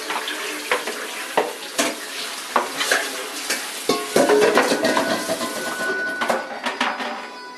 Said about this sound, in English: I'm going to drain the water off of them